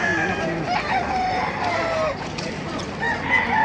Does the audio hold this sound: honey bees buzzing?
no